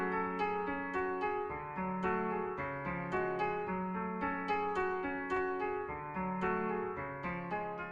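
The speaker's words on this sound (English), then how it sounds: "The piano, I just started a chord progression at 110 BPM and it sounds like this." A repeating piano chord progression at 110 BPM plays alone, steady struck chords with bright decaying tones in an even rhythm, clean and moderately soft throughout.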